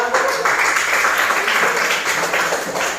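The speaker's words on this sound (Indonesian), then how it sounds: "Tepuk tangan dulu semuanya." Students in a classroom clap their hands together, a loud, dense burst of applause that continues evenly for a few seconds.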